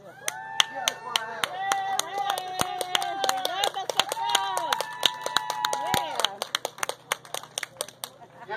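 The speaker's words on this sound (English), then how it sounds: "I think that Ambrosia needs a wonderful round of applause" An audience at a community stage event bursts into sharp, close clapping, joined by whoops and cheering voices that fade out after about six seconds, leaving a few scattered claps.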